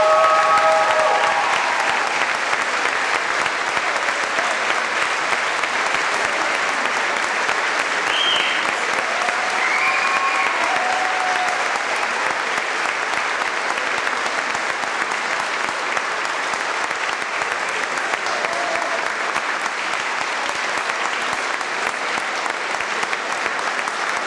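A graduation ceremony audience of parents and friends gives warm, sustained applause, a dense and even roar of many hands clapping throughout, with a few faint voices and whistles mixed into the crowd.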